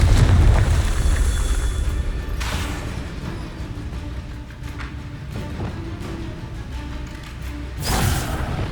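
Confringo explosive spell in Hogwarts Legacy, a heavy booming blast at the start that rumbles and fades, followed by scattered crackles and a second sharp burst near the end.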